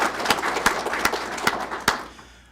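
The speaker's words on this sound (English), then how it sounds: "Let's give our supervisors a round of applause." An audience claps for graduating supervisors at an academy ceremony, a thin scattering of hands with a few sharper claps, fairly quiet and dying away within a few seconds.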